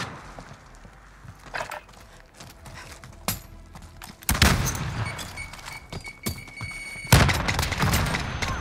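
Video game gunfight with scattered sharp shots early on, then heavier bursts of rapid gunfire and loud impacts that swell toward the end, with bright metallic ringing between volleys and no voices.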